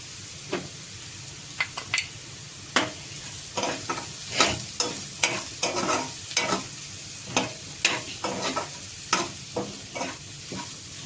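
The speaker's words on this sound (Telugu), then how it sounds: "పచ్చెనగపప్పు వేసాం కదా, తిప్పుకుందాం ఒకసారి." Green chickpeas frying with chili powder and turmeric in a pan, stirred briskly: frequent irregular spatula scrapes and knocks, some in quick clusters, over a constant sizzle, close up with no talking.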